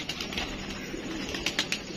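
A prized pet pigeon, with soft fluttering and light rustling movements and a few short, sharper bird sounds near the end, fairly quiet and close, no talking.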